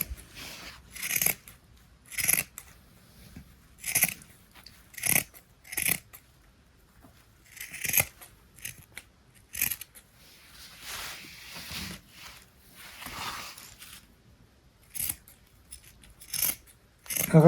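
Tin snips cut through an empty metal cooking-oil tin in a home setting, making sharp, rasping metallic crunches in irregular bursts roughly every second or two, close up, with brief scraping in between.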